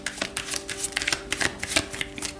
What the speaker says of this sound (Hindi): तो चलिए शफल कर लेते हैं कन्या राशि वर्गो साइन के लिए।